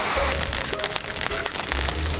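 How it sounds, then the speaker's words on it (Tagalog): Heavy rain falls in a continuous dense hiss, with scattered sharper drops and a low rumbling undertone, and no voices. "ang lakas naman ng ulan"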